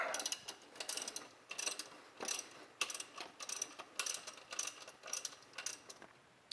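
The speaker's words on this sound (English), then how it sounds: "We'll take out our breaker bar." A wrench ratchets steadily on a 16mm nut on a Dodge Challenger's belt tensioner, giving a close, bright run of rhythmic clicking bursts with brief pauses between strokes and no talk.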